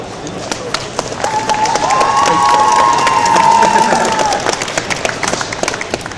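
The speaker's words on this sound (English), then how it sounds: "That was a bigger round of applause than we've had for many guests today from this particular section of the crowd" A stage crowd at the Autosport International 2012 show claps and cheers as Red Bull F1 team principal Christian Horner is welcomed on, sustained applause swelling and fading with a presenter's voice and a whistle-like tone over it.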